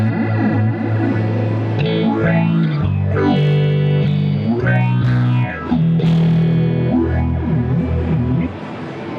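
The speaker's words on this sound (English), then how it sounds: "So it's a combination of phaser and flanger together." An electric guitar played through the Alexander Pedals Luminous phaser-flanger preset sweeps up and down in repeating whooshing arcs over sustained distorted chords, loud and upfront with no talking.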